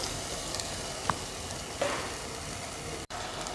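Beef keema with spices fries in a pan, giving a faint, steady sizzle and hiss with a couple of soft clicks from stirring.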